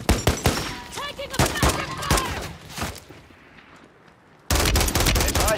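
Gunfire in Call of Duty: Warzone on the Rebirth and Ashika Island maps. Excited voices and game callouts fill the first few seconds, a brief lull follows, then a loud, dense burst of close gunfire cuts in at the end.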